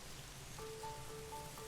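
Rain from the video game The First Tree: a faint, even patter of drops on surfaces, with soft sustained musical tones drifting in partway through.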